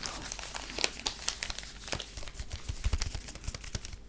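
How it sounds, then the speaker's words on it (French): A Pokémon card booster pack from the Reign of Frost Elite Trainer Box is torn open and its foil wrapper crinkles and crackles up close in a continuous, quiet stream of rustles and small tears. "Et on va de ce pas ouvrir le prochain booster."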